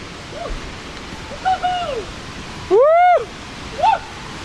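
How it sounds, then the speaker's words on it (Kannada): Steady rushing roar of a waterfall on a forest trek at Arekallu fills the scene, with a few short whistling bird calls rising above the continuous water noise. "ನೀರಿನ ಶಬ್ದ ಹೇಗೆ ಚುಂಬಿಸ್ತಾ ಉಂಟು ಅಂತ"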